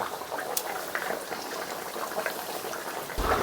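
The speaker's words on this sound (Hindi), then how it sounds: "तेल में हम सारा डाल के फ्राई करेंगे" Sattu kachori deep-frying in hot oil, a steady bubbling sizzle throughout with soft pops and crackles, a little louder near the end, with no voices.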